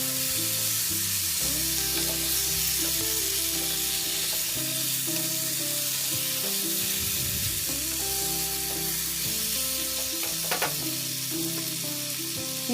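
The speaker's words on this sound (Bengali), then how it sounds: "এবার আমি মশলার সঙ্গে মাংসগুলোকে ভালো করে মিশিয়ে নেব।" Chicken pieces sizzle steadily in hot oil with spice paste for a Bengali-style chicken curry, a loud continuous frying hiss broken by occasional scraping stirs of the pan, with no talking.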